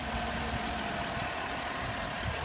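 2011 Chevrolet Avalanche with a 5.3 V8 Vortec engine and aftermarket K&N air filter idling in the open engine bay, a steady even hum mixed with hiss, heard close up and alone.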